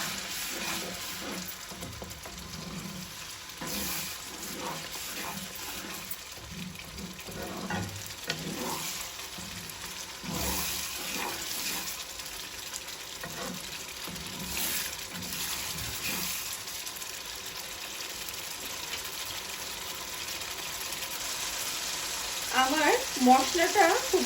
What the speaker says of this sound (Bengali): আবার একটু পানি দিয়ে মশলাটা আমি খুব ভালো মতো কষায় নিব।